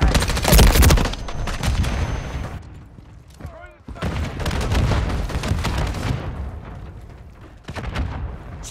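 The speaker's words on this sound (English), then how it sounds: "Throwing stun grenade!" A stun grenade goes off in Call of Duty on PS5: a loud, dense burst of bangs at the start, then ongoing gunfire-like crackle and booms through the rest of the stretch.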